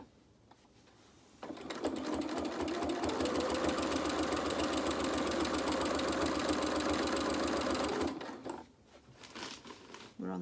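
A sewing machine fitted with a walking foot stitches through the layers of a fabric quilt, starting up after a quiet moment and running in a rapid, steady chatter for about six seconds before stopping abruptly.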